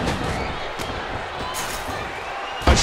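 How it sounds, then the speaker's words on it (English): Heavy thud of an elbow drop in the WWE 2K14 wrestling video game during an Elimination Chamber match, a loud slam landing near the end over steady arena crowd noise and commentary. "A sharp elbow drop."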